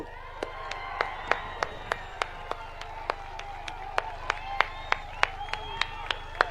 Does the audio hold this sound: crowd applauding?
yes